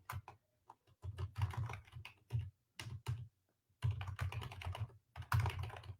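Someone types on a computer keyboard in close, quick bursts of clicks separated by short pauses, with no talking.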